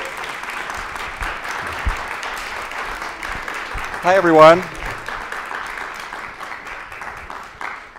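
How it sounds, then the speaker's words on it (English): Audience applause greets the speaker at a university lecture, a steady patter of clapping throughout, with someone briefly speaking over it midway. "Okay, stop clapping."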